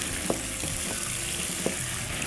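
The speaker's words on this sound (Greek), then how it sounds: "Σοτάρουμε ελαφρώς." Drained mussels sauté in a hot frying pan while a wooden spoon stirs them, a dense steady sizzle with a few soft knocks of the spoon and no speech.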